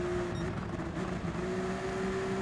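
Race cars lapping the Brands Hatch GP circuit in the video game Gran Turismo 7, a steady sustained engine drone with a constant tone, moderately faint and continuous throughout.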